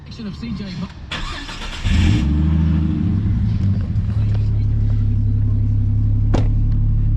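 A car engine with a 3-inch straight-pipe exhaust and an exhaust leak cranks and fires up, settling into a loud, deep, rumbling idle with a throaty exhaust note; voices are heard at the start.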